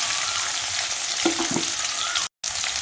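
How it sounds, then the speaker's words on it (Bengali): Sliced potatoes fry in a hot pan with a steady, close, broadband sizzle that holds evenly throughout, broken by one very short silent gap near the end. "আলু ভাজার সময় নুন দিয়ে ভাজলে আলুটা বেশ তাড়াতাড়ি একটুখানি নরম হয়"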